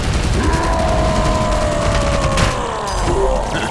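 Grenade blast and rapid gunfire in the Shadowgun shooter game, a dense continuous barrage of shots with a sustained tonal whine running through it and a loud, steady level throughout.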